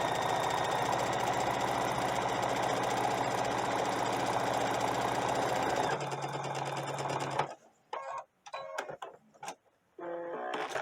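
A sewing machine runs a steady, close, rapid hum as it stitches doll clothes about a quarter inch from the fabric edge, stopping after roughly seven seconds, followed by a few scattered light clicks and handling sounds.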